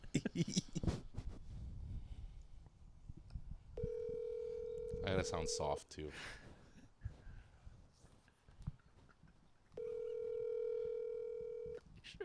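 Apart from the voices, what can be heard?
telephone call dialing and ringing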